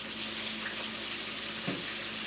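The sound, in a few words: fish frying in hot oil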